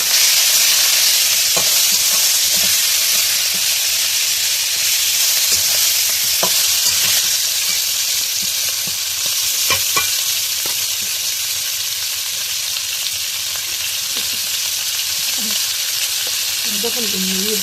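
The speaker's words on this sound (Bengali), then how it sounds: "মাছগুলো ভেজে নিচ্ছি।" Katla fish pieces fry in a pan with a loud, steady sizzle and hiss, broken by occasional sharp crackles and pops, with no talking.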